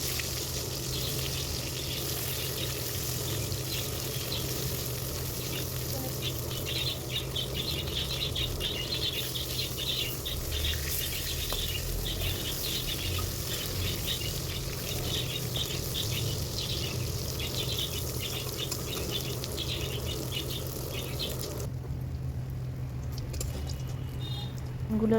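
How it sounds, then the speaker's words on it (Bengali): Eggplant pieces fry in hot oil in a wok, giving a faint, steady crackling sizzle that runs on evenly and then drops away near the end. "এবার বেগুনগুলো খুব ভালো করে আমি ভেজে নেব লাল লাল করে।"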